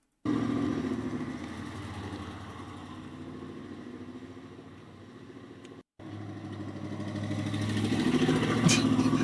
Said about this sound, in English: That's a V8 running on 6 cylinders